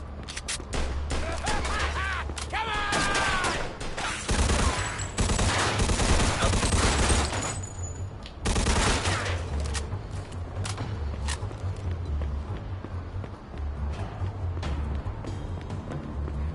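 Dense, sustained gunfire in Mafia: Definitive Edition, with repeated bursts of automatic fire that sounds like a Thompson submachine gun and single shots. The firing is loud and continuous throughout, with some voice underneath.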